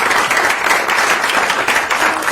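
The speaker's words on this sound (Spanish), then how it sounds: "Un aplauso" Applause from an audience at the close of a panel discussion on impunity in Mexico, a brief burst of dense, steady clapping that stays loud throughout.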